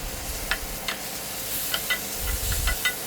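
Tomato sautéing in oil with chili, ginger and four garlic cloves for a basic gravy, giving a steady close sizzle with occasional light stirring clicks and scrapes in a pan, no voices.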